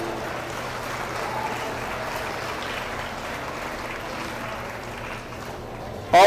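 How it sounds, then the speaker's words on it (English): Steady applause from an audience at a 2022 beef cattle showmanship contest, honoring a group of young exhibitors; the clapping runs evenly as a dense, continuous wash throughout. "Let's give them a round of applause and show them our appreciation."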